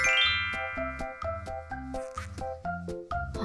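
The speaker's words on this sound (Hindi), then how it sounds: "एक जादुई घंटी।" A magic bell in a children's moral story chimes in a quick melodic sequence of bright, ringing tones, about eight struck notes with sustained shimmer, clear and close with no talking.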